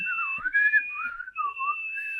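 A clear, sustained whistled melody with gliding pitch, heard alone with no talking and only a short gap near the middle.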